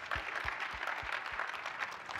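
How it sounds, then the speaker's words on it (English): Audience at a Martin Luther King Jr. breakfast applauding the honorees, a continuous, fairly soft round of clapping with a few louder hand claps nearby. "Give them a round of applause."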